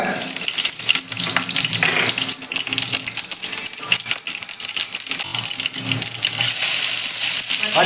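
Mustard seeds popping in hot coconut oil while lemon rice is tempered, a loud dense crackle of sharp rapid pops that swells toward the end.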